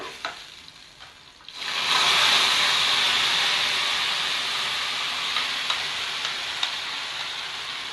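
Ground masala paste with curry leaves hitting hot oil, a sudden loud burst of sizzling that swells after a quiet start and holds as a close, steady hiss with a few light clicks of stirring.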